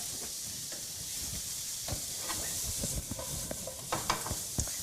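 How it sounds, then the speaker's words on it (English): Chunky canned tomato sauce sizzles and sautés steadily in a pan, with a constant frying hiss and small irregular pops and spatters throughout, fairly close. "so that's sauteing away"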